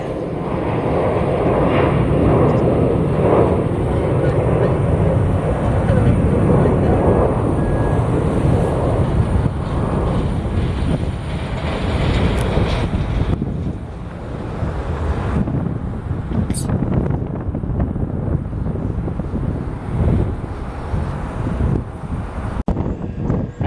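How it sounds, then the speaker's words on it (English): An Everts Air Cargo MD-83 jet lands at a windy Columbus airfield. Its rumbling engine roar is partly masked by heavy wind buffeting the microphone, and the sound stays loud and continuous throughout. "Check this out, coming in on the left side, it's Everts Air Cargo 2833. It's an MD-83 inbound from Brownsville, Texas."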